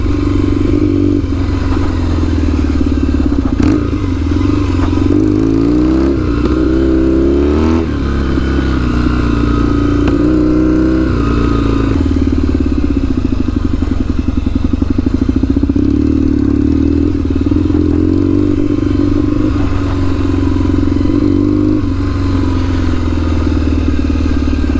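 A Kawasaki KZ750 scrambler motorcycle ridden off-road on knobby tires, loud and close, its engine rumbling continuously with repeated revs and throttle surges, plus some rattling and clatter over rough ground.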